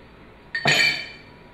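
A spoon clinks once against a glass while powdered pumpkin seed is stirred into almond milk. The single bright ring sounds close and fades quickly, with no talking.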